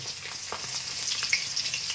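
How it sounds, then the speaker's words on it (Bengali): Boal fish frying in oil, a soft continuous sizzle with faint scattered pops and crackles, quiet and unbroken. "এখন মাছ ভাজা চলছে"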